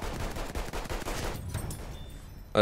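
Rapid bursts of gunfire in Battlefield 1, a quick string of sharp shots that thins out toward the end, with no talking over it.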